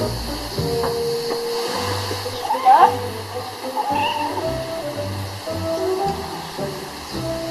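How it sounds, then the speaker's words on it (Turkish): A cartoon cat meows a few times over busy background music and watery splashing sounds, with voices in the scene. "Biraz da kedi ile oynayayım."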